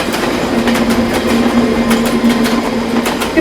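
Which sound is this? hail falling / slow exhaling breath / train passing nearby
train passing nearby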